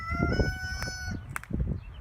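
A rooster crows loudly nearby in a backyard garden, followed by a few short clucks from chickens, with faint background noise and no talking.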